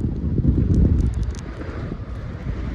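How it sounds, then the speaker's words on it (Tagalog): Strong wind buffets the microphone in a steady low roar, gusting heavier early on and easing slightly, with no voices. "Dito ay wala lang pero ang lakas ng hangin."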